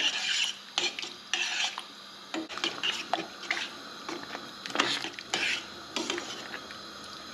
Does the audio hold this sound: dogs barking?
no